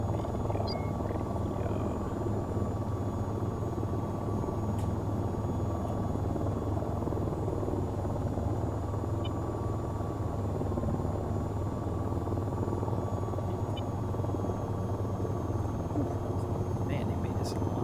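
Aircraft in the VTOL VR game coming in for a quick landing, a steady, loud, droning engine roar with a constant rotor-like hum held throughout, with no change in level.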